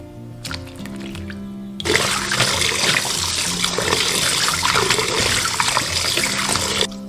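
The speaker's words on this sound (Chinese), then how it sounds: "我们鸡爪已经煮好了，捞起来清洗干净。" Running water gushes loudly from a kitchen tap over boiled chicken feet being rinsed, a sudden steady rush after a short quieter start, with faint splashing and no speech.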